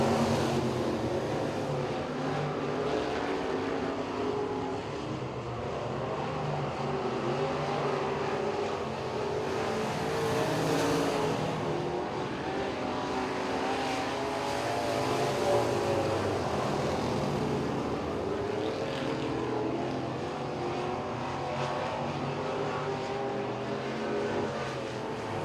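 Modified street cars racing at Duck River Raceway Park during heat races and a feature, a steady wall of engine roar from several cars that swells and fades slightly as they circle the track.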